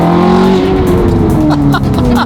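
A barn-find Ferrari with a straight-piped FI exhaust roars loud and close, a harsh continuous engine blare that holds and sweeps downward as it passes, with a brief tire squeal.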